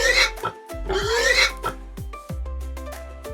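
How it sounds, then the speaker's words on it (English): A pig grunts and oinks in short repeated snorts, loud and close, with brief pauses between bursts and no talking. "A pig says oink and loves to roll in mud."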